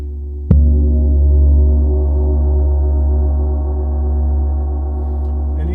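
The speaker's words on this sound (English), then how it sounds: "And even if I'm, striking fairly hard, the gong's not opening up" Paiste Bronze gong struck fairly hard, one sharp strike followed by a deep, long sustained drone with stable layered overtones, staying loud and focused as it slowly swells and settles.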